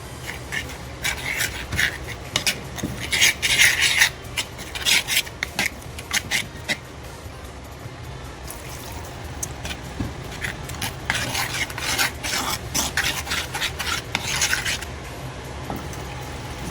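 Spoon stirring coconut milk with spices for a fish curry, repeated scraping and rubbing strokes against the vessel, close, in irregular bursts with quieter gaps.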